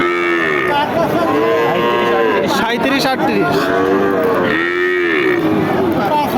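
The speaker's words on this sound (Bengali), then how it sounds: "পাকিস্তানি জাতের বাছুর" Calves of a Pakistani breed moo loudly and repeatedly at the Chougachha cattle market in Bangladesh, their calls close and overlapping with people talking and bargaining nearby.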